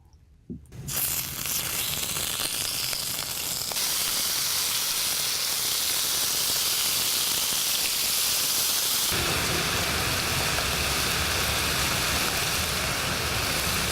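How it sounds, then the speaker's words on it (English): Squid sizzles loudly on a hot grill pan in coconut oil for Balinese grilled squid, a steady dense hiss that begins abruptly and grows harsher partway through, with no talking. "Now we're going to add the squid."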